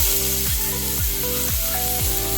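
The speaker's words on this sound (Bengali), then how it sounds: "পটল ভাজার তেলাতে কাঁঠাল বিচিটা দিয়ে দিব।" Jackfruit seeds fry in oil left over from frying pointed gourd. A dense, continuous sizzle runs throughout with faint repeating stirring, and there is no talk.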